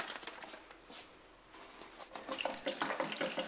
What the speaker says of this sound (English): fill that tub up and start growing some strawberries